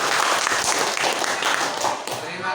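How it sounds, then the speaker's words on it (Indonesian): Students in an Indonesian classroom clap together in a sustained, dense round of applause, loud and steady throughout with a slight dip near the end. "coba beri tepuk tangan untuk kita semua dong yang menyenangkan"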